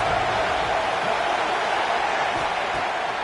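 A college football stadium crowd in a video game roars steadily behind the defense on a third down, a broad sustained cheer with a commentator talking over it.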